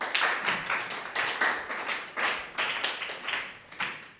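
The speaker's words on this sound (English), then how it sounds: "let's again give a very thankful hand claps to Group 1" Primary school students clapping for a classmate group in a classroom, a lively, uneven burst of hand claps that comes in rhythmic waves, close and fairly loud.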